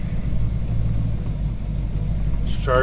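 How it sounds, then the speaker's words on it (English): A 1934 Ford three-window coupe engine idles steadily at close range, a low even rumble with no revs rising. A brief clatter or voice-like burst comes near the end. "Idling about 850, 900 RPM. Sounds really well, really good."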